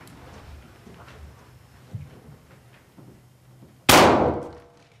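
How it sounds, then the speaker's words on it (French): Quiet room noise with a small knock, then a single sharp, loud blast from a 12-gauge hunting shotgun that decays quickly. "utilise un fusil de chasse calibre 12, une arme semblable à celle qui a tué Richard Alessandri"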